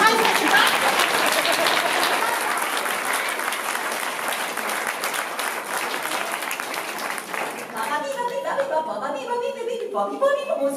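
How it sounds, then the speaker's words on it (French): Sustained applause from an audience at a clown's talk show, a dense and steady wash of clapping for several seconds before it thins and a voice begins speaking over the last moments. "je voudrais aussi qu'on applaudisse Elisabeth qui nous a fait du bar"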